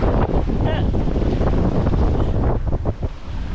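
Wind buffets the microphone steadily and loudly aboard the sailing yacht Crackajack off Rainbow Beach, with water rushing beneath the continuous roar.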